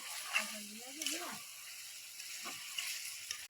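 Meat frying in oil with ground spices, ginger, garam masala and turmeric paste, in a home kitchen: a quiet, steady sizzle with faint stirring under someone talking.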